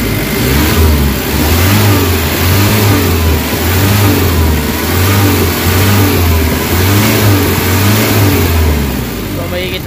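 A Nissan Vanette van engine with a low-power, throttle-delay fault revs repeatedly, swelling and falling in a regular rhythm of about a second each, loud and close throughout.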